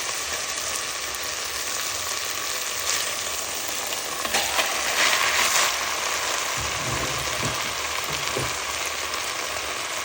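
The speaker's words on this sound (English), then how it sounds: "Fry this up. And I'm going to throw in the beef." Ground beef sizzles steadily in a hot pan, a constant dense crackling hiss that fills the whole stretch, with a few faint scrapes of stirring and no talk.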